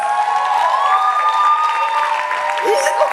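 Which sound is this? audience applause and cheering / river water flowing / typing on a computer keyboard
audience applause and cheering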